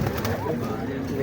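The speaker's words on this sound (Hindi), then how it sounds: "ये ओरिजिनल मियाँ साहब वाले कबूतर हैं" Old big-breeder pigeons coo softly, close and low, with a muffled, continuous murmur of cooing filling the short moment.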